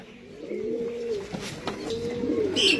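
A pigeon coos close by in two rolling, throaty phrases, clear against a quiet background with a few faint clicks.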